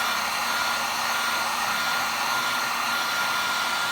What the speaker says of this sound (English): I'm just putting the heat to start the process of drying the paint